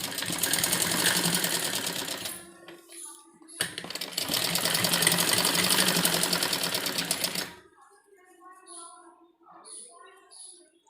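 A sewing machine runs in two long, loud bursts, stitching suit pieces together, with a short pause between them, then stops, leaving quiet handling clicks and small rustles of fabric.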